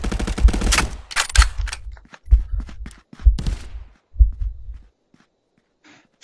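Gunfire in the VR game Contractors: several bursts of rapid automatic shots in clusters, loud and close, then fading to near silence.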